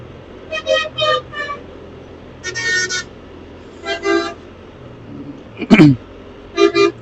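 A motorbike horn honks in short repeated bursts from behind on a road, in several separate toots spread across the stretch, loud and close over a low traffic rumble.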